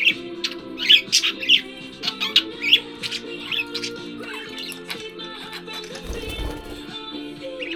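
Pet birds squawk and chirp in short, sharp bursts, fairly close, with intermittent calls over a quiet room and a low thump near the end.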